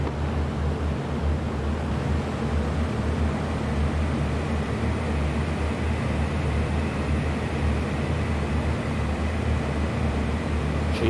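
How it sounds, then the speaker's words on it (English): A big plane's turbocharged engine running at high power in a VR dogfight game, a steady, loud, unbroken roar that holds for the whole stretch without talk. "Gosh, I love hearing that turbo kicking in."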